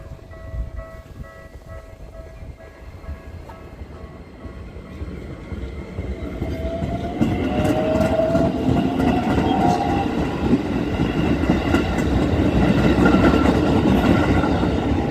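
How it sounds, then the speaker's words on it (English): A short three-car Keikyu Daishi Line train in Kawasaki rolls past on a minor local line, its rumble and wheel noise building loudly midway and continuing steadily to the end, with no talking. "And here you can see one of these cutesy trains."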